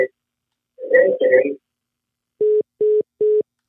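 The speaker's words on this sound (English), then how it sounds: "Guess he hung up his phone." Three evenly spaced electronic phone tones beep after a caller disconnects during a live call-in stream, following a brief burst of speech.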